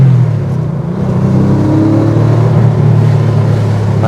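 An original air-cooled 1990s Porsche 964 Carrera with its engine being revved, a loud, close, throaty drone that climbs steadily in pitch over a few seconds and holds, with no one talking.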